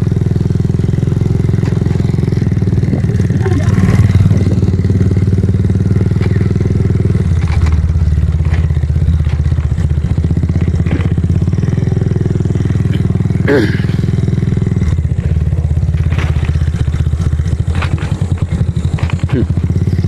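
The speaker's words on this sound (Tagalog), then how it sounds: "Sarap dito gamitin yung motor ko ha." A motorcycle engine runs steadily and close by throughout, a continuous low mid-pitched drone with some clatter, faint voices underneath.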